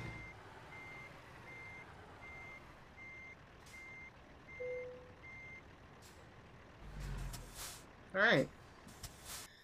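In American Truck Simulator, a Kenworth T800's reversing beeps repeat softly, then the air parking brake releases a short, sharp hiss near the end. Someone speaks briefly.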